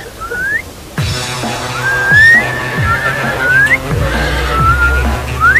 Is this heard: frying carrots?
no